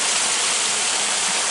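Water pumped from a well splashes and churns into a tilapia pond, breaking the surface in a loud, steady broadband rush that holds unbroken throughout, no voices.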